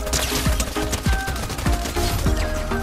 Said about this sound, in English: Gosh, I love this pistol.